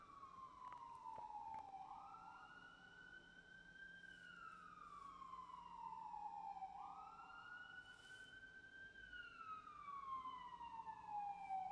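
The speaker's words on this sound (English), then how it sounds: "And there's another siren." An emergency vehicle siren wails outside, sweeping up and down in long repeated cycles, steady and fairly loud over street background with no talk.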